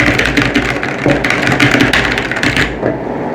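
Fast, dense clatter of keystrokes on a Tsunami MK61 RGB mechanical keyboard, clicks running together in a steady close-up burst that stops abruptly near the end.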